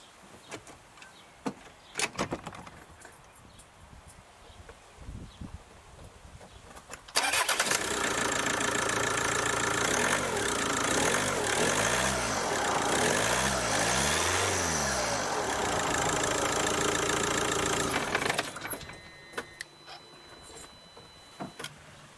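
A Kia Ceed diesel with an EDC16 engine control unit and its original ECU cranks and starts, then runs at a loud steady idle for about ten seconds before shutting off.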